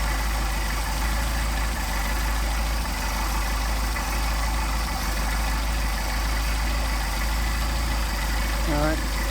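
A Mercedes 190SL engine with Solex carburetors idles steadily during a cold start while the carburetors are synchronized, giving a constant, close, low rumble throughout.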